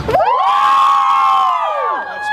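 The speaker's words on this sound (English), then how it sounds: "How loud do you guys cheer on a home game for Melton?" A home-game crowd of Melton supporters cheers loudly together, one sustained rising roar of many voices lasting about two seconds before it tails off.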